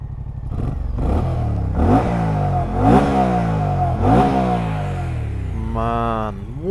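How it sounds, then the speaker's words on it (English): A 2024 Moto Guzzi Stelvio motorcycle engine revs repeatedly in sharp rising bursts, about four throttle blips over a steady idle, close and loud. "let's have one last listen to the bike"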